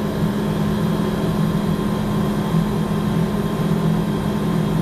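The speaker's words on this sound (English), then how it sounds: "So what I'm going to do now is start the spindle." A milling machine spindle drones steadily with an even, close mechanical hum and no pauses or changes throughout.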